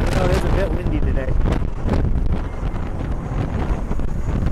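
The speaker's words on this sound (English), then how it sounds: "Oh, it is a bit windy today." Strong wind buffets the microphone in a continuous, rumbling roar, gusting up and down with faint speech underneath.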